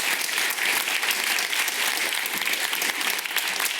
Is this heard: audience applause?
yes